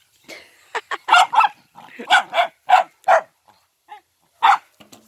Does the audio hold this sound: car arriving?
no